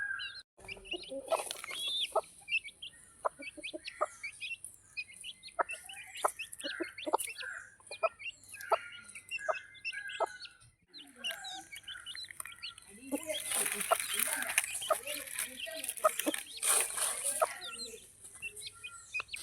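Hens cluck repeatedly nearby while small chicks peep, with a burst of busier clucking and chirping toward the end.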